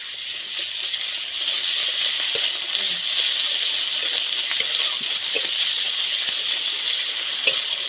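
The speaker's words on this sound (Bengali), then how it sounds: "এবার এই আদা রসুন বাটাটা দিয়ে দেবো দিয়ে একটু ভেজে নেবো" Ginger-garlic paste sizzles steadily in a pan of frying onions for a Rupchanda pomfret fish curry, a loud, even crackle of hot oil with occasional small clinks, no voices.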